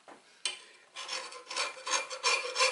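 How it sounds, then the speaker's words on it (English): A plastic pan scraper rasps against heavy sugary residue stuck in a cast iron frying pan, a short scrape followed by a run of repeated close, gritty strokes, loud and alone. "to scrape up the heavy stuck residue without scratching your frying pan"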